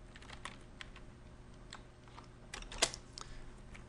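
Scattered keystrokes on a computer keyboard, with one louder clack near the end, typing a word into a text tool; quiet and close with no voices.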